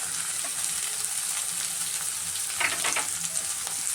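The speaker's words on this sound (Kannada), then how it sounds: "ಈರುಳ್ಳಿ ಫ್ರೈ ಮಾಡಿದ್ದೀನಿ. ಹುಳ್ಳಿಕಾಯಿ ಹಾಕ್ತಾಯಿದ್ದೀನಿ ಮತ್ತು ಕ್ಯಾರೆಟ್ ಹಾಕ್ತಾಯಿದ್ದೀನಿ" Onion, beans and carrot fry together in a pan for a chapati veg roll filling, producing a continuous close sizzle with a few louder bursts of stirring midway and no speech.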